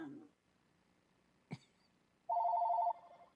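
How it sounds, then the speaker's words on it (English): A house telephone gives one steady electronic ring of about half a second, fairly loud, after a brief cough or throat noise and faint background sound. "You had a phone call."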